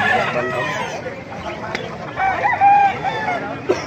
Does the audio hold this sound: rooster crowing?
yes